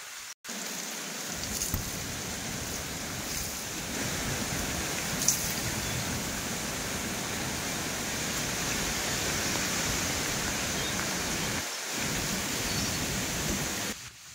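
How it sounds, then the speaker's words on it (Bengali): Steady, heavy rain hisses continuously during a strong storm, dense and loud, with a brief dip near the end before the downpour resumes. "বৃষ্টি পড়ছে"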